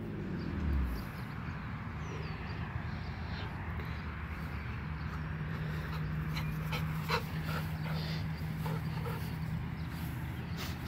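A dog pants steadily during obedience training, breathing close and continuous over outdoor background noise, with a brief faint whimper-like tone partway through and no talking.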